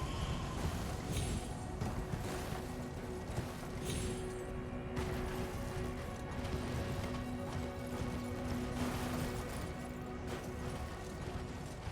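Hooves of a horse in Elden Ring clip-clop steadily at a quick pace under a continuous musical drone, with occasional clatters.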